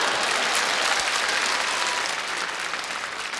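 Steady, dense audience applause at a comedy show, a large crowd clapping continuously at even loudness throughout with no voices over it.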